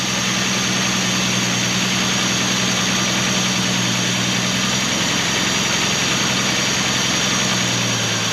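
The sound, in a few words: Volvo 164e engine idling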